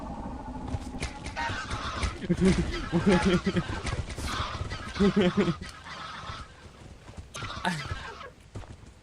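Baboon hawks from the video game Lethal Company call in a dense, honking, goose-like chorus of repeated squawks and cries, loud and close, with a person talking over them throughout.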